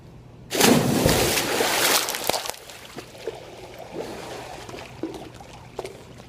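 Freestyle swimming strokes during a 2,000 meter open-water swim, heard as a loud sloshing splash burst up front, then softer rhythmic splashes and trickles of water close by, with no talking.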